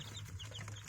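Farm chickens at a poultry-raising operation give soft, close clucks and short chirps over a low steady hum, a brief scattered burst of fowl sounds without talk.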